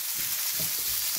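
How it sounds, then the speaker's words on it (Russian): Champignon mushrooms frying in a pan over high heat, a steady loud hiss and crackle of sizzling oil throughout with faint stirring scrapes, no voices. "Я обжариваю шампиньоны до золотистого цвета."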